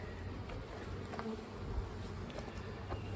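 Honeybees hum around a busy, very active hive, a faint continuous buzzing close by with no talk.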